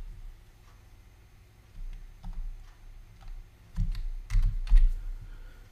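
Keys clack on a computer keyboard while a value is entered in Revit, scattered taps building to a louder run of strokes near the end, close and clear with no talk.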